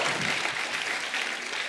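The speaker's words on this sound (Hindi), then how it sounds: "जोरदार ताली हो जाए।" Studio audience at a comedy talk show bursts into dense, continuous applause, steady and fairly loud throughout with no voices over it.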